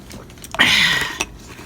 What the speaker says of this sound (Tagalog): Inom na ako ng tubig. Super uhaw.